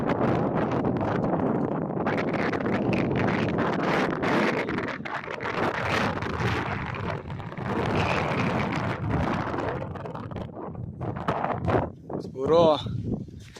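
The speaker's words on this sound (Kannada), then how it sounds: "ಯಪ್ಪ ಎಂತ ಗಾಳಿ ಬೀಸ್ತಾ ಐತೆ" Strong wind buffets a hilltop temple in Karnataka, a steady loud roar and rumble across the microphone that gusts and eases, with people talking through it.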